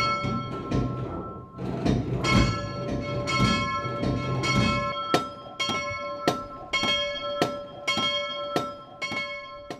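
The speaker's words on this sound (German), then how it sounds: "Jeder, der allerdings zum Gebet kommt, kann selbst das kleine Glöckchen läuten." A small chapel bell rings in a steady rhythm of bright, clear strikes, each ringing out, with a busier jumble of chimes at the start.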